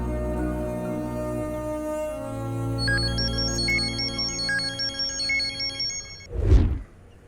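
A melodic electronic ringtone chirps in a fast repeating pattern over a low musical background, then a sudden loud thump cuts in near the end.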